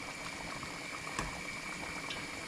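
Salted water boiling in a pot with pasta cooking in it, a steady close bubbling simmer with a brief louder clunk midway, no talking.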